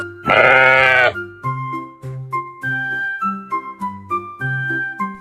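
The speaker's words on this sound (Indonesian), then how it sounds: "Kambing." A goat lets out a loud, wavering bleat up close, followed by soft tinkling bell tones.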